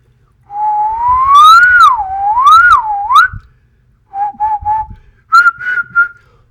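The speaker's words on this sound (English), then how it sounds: "but let's try whistling." A person whistles clear, sliding notes up close to control the TuneSynth pitch-detection game. A long wavering phrase comes first, then shorter clipped bursts after a brief pause.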